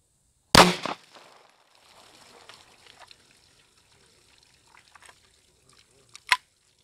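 A single sharp, loud crack of a .22 Magnum (.22 WMR) rifle firing at a target opens the scene, then a faint trickle and rattle, and a second short, sharp report near the end.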